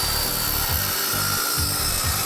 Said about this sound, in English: adrenaline rush using a power tool like that